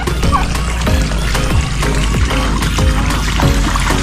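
A duck splashes and sloshes water in repeated bursts up close in an azolla pond, with occasional quacks and a steady pouring trickle underneath.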